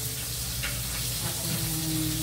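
Dinner frying in a pan at home, a steady, soft sizzle with occasional faint crackles, heard close and low without any talk over it.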